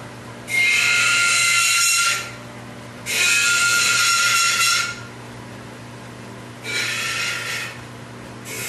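A woodturning tool held against a powered sharpener in a workshop, three separate grinding passes of about one to two seconds each, loud and close over a steady motor hum.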